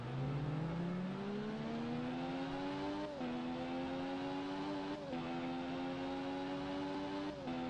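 Motorcycle engine in the racing video game Ride, revving up steadily as it accelerates, with brief dips at gear shifts and a sustained whine between them, loud and alone.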